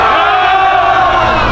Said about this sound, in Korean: 여러분, 함성함 드리겠습니다.